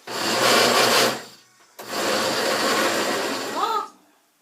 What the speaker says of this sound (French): Attention à vos oreilles, je vais mixer.